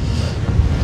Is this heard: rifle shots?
no